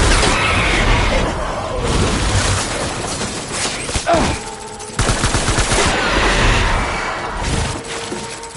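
Covering gunfire in the video game Death Stranding: loud bursts of rapid automatic fire and sharp shots in repeated volleys, with brief metallic impacts and a short lull midway before the shooting resumes.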